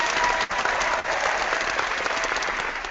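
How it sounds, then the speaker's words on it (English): Dense recorded applause from many people plays back over a live call, a steady, even wash of clapping with slightly muffled, compressed quality and a couple of brief dropouts. "That was the applause of everyone."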